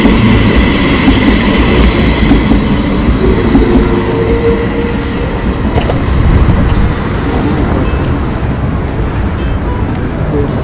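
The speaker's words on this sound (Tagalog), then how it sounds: "Yung tram. LRT." A tram rumbles past loudly in Antwerp, Belgium, with a continuous heavy roar and rhythmic clatter of wheels on rails throughout.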